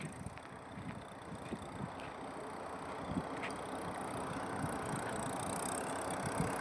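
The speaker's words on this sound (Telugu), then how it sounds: "చూడొచ్చు మా అన్న అయితే దున్నుతున్నాడు ట్రాక్టర్ అయితే తీసుకొని" Tractor engine working while plowing soft, rain-softened farm soil, a steady mid-pitched diesel drone with faint knocks, rising slightly and holding constant throughout, with no voices.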